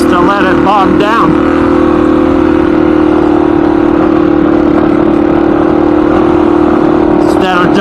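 A motorcycle engine bogging down at low RPM while riding, a loud, steady, labouring drone under heavy wind rumble, with a few brief warbling bursts near the start and end.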